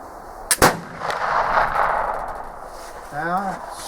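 A black powder flintlock gun fires with its pan primed with 4F powder: a sharp crack and a second close blast come in quick succession, followed by a lingering rumbling decay and a brief whine near the end.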